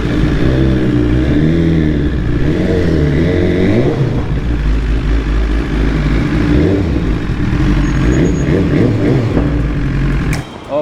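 Motorcycle engine on a ride, a steady loud mid-pitched drone with rising and falling revs throughout, close and continuous with no talking.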